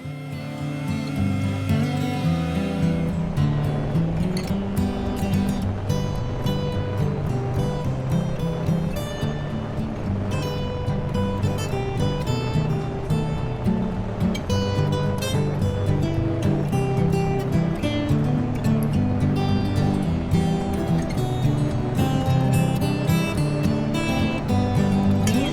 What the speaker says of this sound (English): that's my annual snow plowing episode, just using the loader bucket